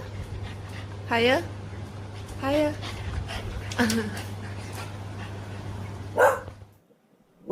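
A dog lets out a few short, high yelps and whimpers spaced across several seconds, near and moderately loud over a low steady hum, ending in sudden quiet.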